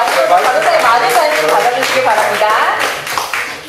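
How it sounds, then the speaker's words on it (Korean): At a live event on Hyundai heritage commercial vehicles, the audience gives scattered, uneven clapping and tapping that tapers off near the end, with voices audible underneath. "여러분 큰 박수 부탁드리겠습니다."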